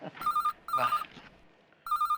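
A telephone rings in short electronic trills, two close bursts then a pause and a third, moderately loud in a quiet room with no talking.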